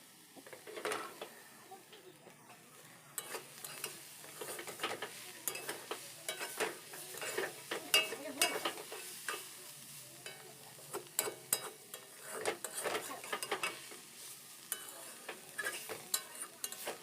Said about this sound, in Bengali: শাক ভাজা হচ্ছে এখন